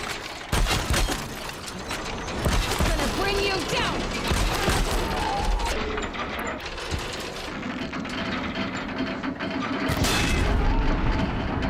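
A robot machine blowing apart in the Horizon video game, dense crashing booms and rapid gunfire-like bursts with clanking mechanical rattles throughout, loud and busy, with a voice talking intermittently under the din.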